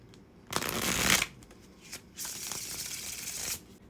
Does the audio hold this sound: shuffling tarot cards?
yes